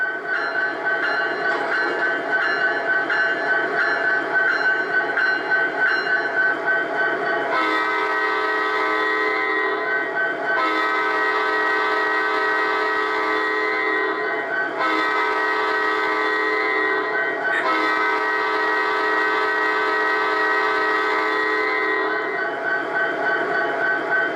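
Repeated blasts of a multi-tone diesel horn from an MTH One Gauge SD70ACe model locomotive with Proto Sound 3.0, over a continuous engine drone, with short gaps between the long and short blasts.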